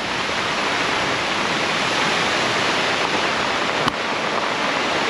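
Stream water rushes through the woods along a bikepacking trail, a steady, loud broadband roar that never lets up, with one brief click partway through and no voices.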